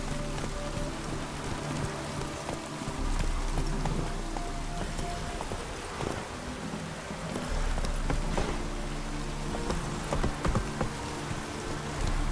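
Geralt's horse Roach trots in The Witcher video game, its clip-clop hoofbeats partly masked by a steady wash of rain and ambient game sound.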